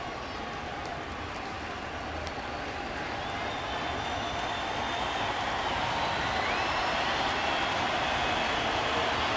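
At a Phillies at Marlins baseball game in Miami, a big stadium crowd roars in a broad, continuous wash of cheering that swells slightly louder over time, with faint commentary beneath.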